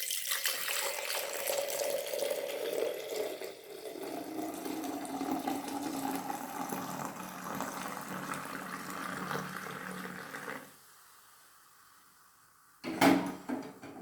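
Milk is poured from a height into a bowl for homemade curd. A steady, close splashing stream runs for about ten seconds, then stops. A brief clunk follows, and no one speaks.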